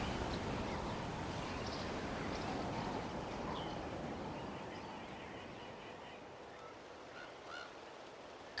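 Qucusaur creature in the Genshin Impact video game, honking goose-like calls over a soft continuous background, faint and somewhat distant, fading toward the end, with no talk.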